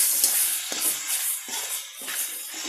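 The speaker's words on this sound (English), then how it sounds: "So slowly we add all the rice and mix them up well." Cooked rice being stirred into a curd mixture for garlic-flavoured curd rice, with a few soft scraping strokes against a steady sizzling hiss, close and fairly quiet, no talking.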